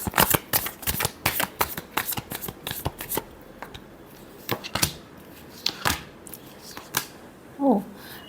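Tarot cards are shuffled by hand in a quick series of crisp riffling snaps and flutters, close and clear, easing off toward the end where a brief voice sound appears.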